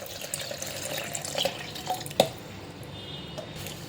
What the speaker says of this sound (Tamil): கொஞ்சம் தண்ணி விட்டுக்கோங்க.